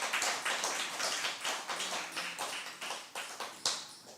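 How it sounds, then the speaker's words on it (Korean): A church congregation claps together during a Sunday service in a steady, fairly regular rhythm of sharp claps that carries on throughout, moderately loud and unaccompanied by speech. "박수 하시고요."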